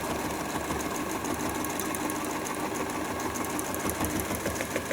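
Sewing machine stitching fabric for bleachwork, a loud, steady mechanical whir with a rapid, even needle rhythm running continuously close up.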